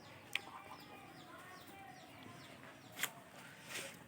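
Hens out in a backyard poultry yard give soft, distant clucks and a few sharp calls, faint against quiet ambient background.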